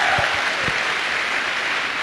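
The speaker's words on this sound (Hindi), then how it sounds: "मैं चाहूंगा उनके लिए एक बार जोरदार तालियां हो" Audience applause at an Indian business success-story event, a steady dense wash of clapping from a crowd that holds evenly for about two seconds with no one speaking.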